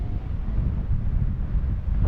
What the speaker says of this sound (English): Definitely gusts into the 20s.